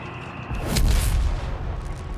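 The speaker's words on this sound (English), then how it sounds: "AT gunshots continue to bounce on the Brumbear." Anti-tank gunfire strikes a Brummbär tank in the Company of Heroes 3 video game, a heavy boom rising around the middle into a loud blast with a rumbling tail, no voice over it.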